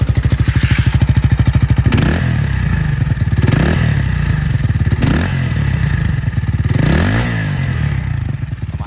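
A GPX Demon 150GR motorcycle with a fiberglass-packed exhaust revs repeatedly with a deep, throaty rumble, rising and falling several times at close range.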